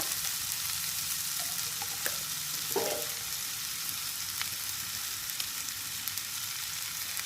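Ghee dropped onto hot charcoal in a small bowl set among chicken for smoking gives a steady broadband sizzle with a couple of brief crackles, fairly quiet, with no talking.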